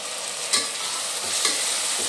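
Tomatoes stirred with onions in a frying pan, a steady sizzle with a few soft spoon scrapes as the mixture is moved, no talking.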